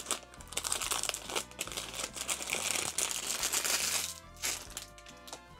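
Packaging of a Tarmac Works model car box being opened up close, with continuous crinkling and crackling of plastic and cardboard that rises and falls for a few seconds.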